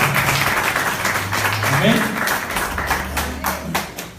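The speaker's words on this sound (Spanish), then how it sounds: "¿Cuánto le dan un aplauso al Señor por Israel, por su pueblo, por su nación santa?" A church congregation applauds in a steady wash of clapping, with voices calling out over it.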